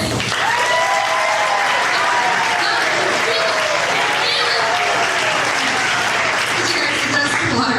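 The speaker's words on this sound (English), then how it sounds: "So please, please applaud." A pitch night audience rehearses its applause, a loud sustained burst of crowd clapping with a few whoops and cheers rising over it.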